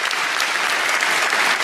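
Audience applause fills the room, a steady dense wash of clapping that holds evenly from start to finish with no voices over it.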